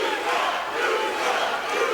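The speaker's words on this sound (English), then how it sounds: "Crowd is chanting for Houston" Arena crowd at a UFC 15 fight chanting for the fighter Houston, a dense, loud, sustained roar of many voices filling the whole moment.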